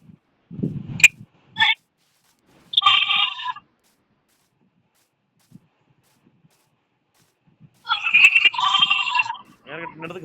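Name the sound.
sheep bleating in Minecraft video game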